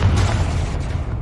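A heavy, booming blast from the Confringo fire spell in Hogwarts Legacy, a deep low rumble that starts at full strength and fades slowly over about a second.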